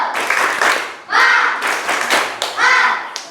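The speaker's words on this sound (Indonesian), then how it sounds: "Kita ulangi, tepuk semangat." A primary school class performs the tepuk semangat clapping routine, loud rhythmic bursts of hand claps in patterned groups, mixed with children's voices chanting along in a classroom.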